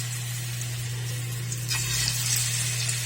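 Banana fritters coated in flour batter sizzle and crackle in hot oil, a steady close frying hiss with no talking.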